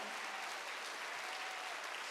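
Church congregation clapping during a Wednesday service, a soft, distant wash of applause held evenly throughout.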